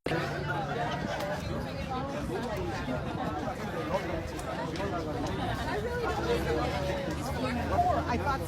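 Steady babble of many voices at a street protest against killing kids, continuous crowd chatter filling the air with no single voice standing out, an outdoor gathering hum throughout.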